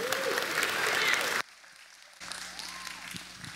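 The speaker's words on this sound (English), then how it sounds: "So would y'all clap for him?" Church congregation clapping comes in a loud burst and then cuts off sharply. A quieter stretch with faint voices follows.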